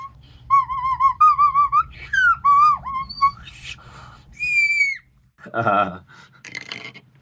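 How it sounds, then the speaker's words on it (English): A tiny whistle-type aerophone blown in short warbling phrases, its pitch sliding up and down as the tongue shifts inside the mouth, close and clear, with breathy noises between the notes. "Moving your tongue forward and back makes the enclosed space bigger or smaller, thus raising or lowering the pitch."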